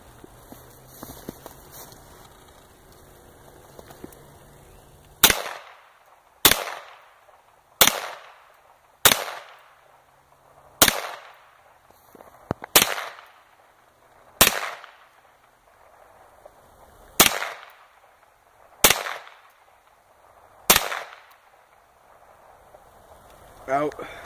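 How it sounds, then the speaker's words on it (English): A Hi-Point 995TS carbine fires about a dozen sharp shots at an outdoor range, single cracks spaced one to three seconds apart with short echoing tails, after a stretch of quiet background. "Second clip through it. This will be bullet number 11."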